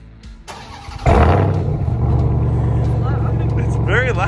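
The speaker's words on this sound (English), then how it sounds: "We're gonna cold start the truck" A straight-piped RAM TRX truck, its resonator deleted, cold starts with a sharp crank and then a loud, deep rumbling idle that holds steady close by, while people talk faintly in the background.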